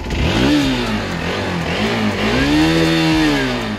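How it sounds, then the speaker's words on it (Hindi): A Hero X Pulse 200 4V adventure motorcycle revs close by, the engine climbing and falling in pitch through a couple of throttle blips, loud and alone. "गाड़ी की आवाज़ के बारे में बात कर लें तो इस प्रकार से आवाज़ है"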